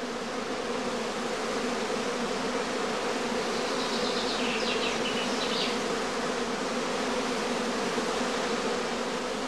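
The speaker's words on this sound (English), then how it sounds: "Warm, sunny days and humid weather in particular encourage the bees to swarm." Honey bees swarm at a heather skep apiary on a warm day. They make a dense, steady buzzing drone that goes on without a break, close and even in loudness, and no voices are heard.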